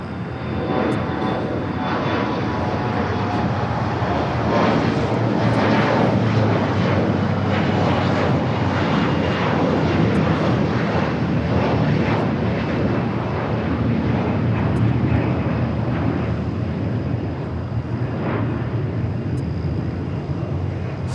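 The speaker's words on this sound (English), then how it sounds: "Air France A350 touching down here on the south side" An Air France Airbus A350 touches down on the south side runway, its jet engines roaring loud and steady throughout with a broad rushing wash of noise and no voices.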